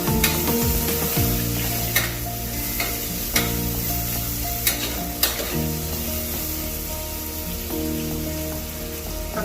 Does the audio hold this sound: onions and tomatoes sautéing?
yes